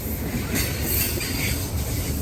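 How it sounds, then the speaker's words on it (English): A long train rolls past on the tracks near an Appalachian Trail hiker, a loud continuous rumble of railcars with faint wheel squeal and clatter, no voices. "This is a long train."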